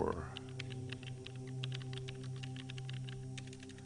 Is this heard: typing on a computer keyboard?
yes